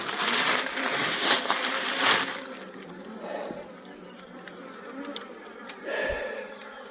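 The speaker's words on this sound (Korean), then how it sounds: "아무튼 벌이 많으면 기분이 좋아요" Dense swarm of wild bees buzzing loudly up close during a hive move-in, a continuous drone that eases to a steadier hum after a couple of seconds with brief swells.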